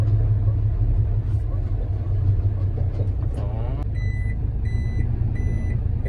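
A KM 505 truck rumbles loudly while maneuvering through a tight hairpin on a narrow, freshly concreted road, its engine droning continuously, with steady reversing beeps sounding in regular pulses toward the end.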